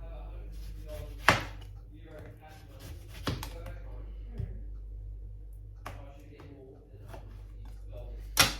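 Knife slicing an orange on a board for an Aperol Spritz, with a few sharp, separated cuts and clacks spaced over several seconds against quiet background and occasional small handling sounds.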